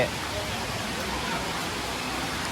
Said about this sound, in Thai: ฝนมาอีกแล้วครับพี่พี่